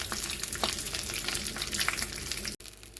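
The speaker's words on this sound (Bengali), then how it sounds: "বেগুনগুলিকে হালকা করে ভেজে নেব তেলের মধ্যে, এপিট ওপিট করে ভালো করে ভেজে নেব।" Spiced eggplant slices frying in hot oil, a dense continuous sizzle and crackle at close range with scattered pops, a brief dropout near the end before the sizzle resumes.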